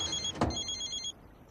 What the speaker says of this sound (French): C'est ton téléphone.